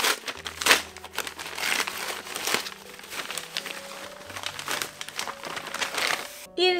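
Plastic or paper packaging crinkles and crumples in bursts while a parcel is opened, with a voice speaking over much of the rustling and a louder tearing rustle near the end.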